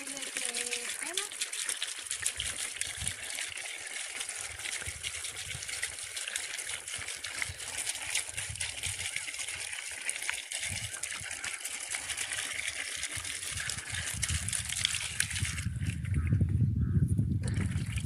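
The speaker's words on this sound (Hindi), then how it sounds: "थोड़ा पानी डालते हैं उसके शरीर पे" Water poured over a cow's body makes a steady gushing, splashing hiss that runs throughout and swells near the end, with people talking faintly underneath.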